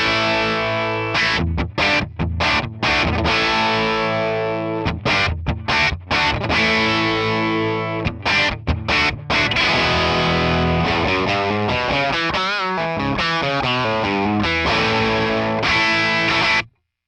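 Heavily distorted electric guitar through a 1967 Sound City One vintage amp, reverb off, played loud and aggressive, chopped chords with sharp stops, then sustained, wavering notes ringing out before cutting off.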